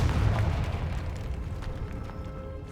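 Confringo explosive spell cast in Hogwarts Legacy, a heavy booming burst with a strong low thump at the start that decays into a fading rumble over a few seconds.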